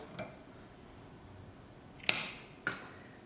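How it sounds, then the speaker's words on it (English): Two sharp snips as side cutters clip the excess tail off a cable tie during assembly of a TEVO Black Widow 3D printer's X axis belt, close and crisp, the second following about half a second later, with an earlier faint click. "You just want to cut the cable tie."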